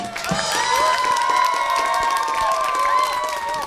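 A studio audience at a children's game show claps and cheers loudly, with kids shouting and whooping over a dense bed of applause that stays strong for the whole stretch.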